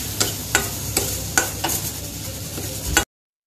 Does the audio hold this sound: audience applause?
no